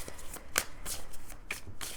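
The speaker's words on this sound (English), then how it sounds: "let's shuffle with a little bit more intention here" Tarot cards being shuffled by hand, a soft, steady riffling with crisp slaps and flutters repeating through the quiet.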